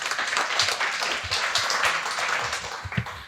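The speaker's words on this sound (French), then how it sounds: "On peut applaudir." Conference audience at an energy renovation event clapping together in a dense, continuous burst of applause, brief and fairly loud throughout.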